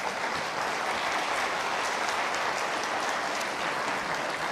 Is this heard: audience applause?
yes